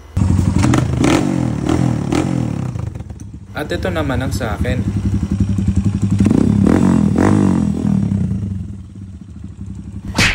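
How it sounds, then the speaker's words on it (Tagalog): A trail motorcycle's engine runs loud and close, idling with rough pulsing and occasional revs amid clatter, while someone speaks over it. "Ayan nga pala ang kanyang motor."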